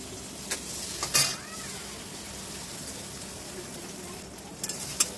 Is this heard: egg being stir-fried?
yes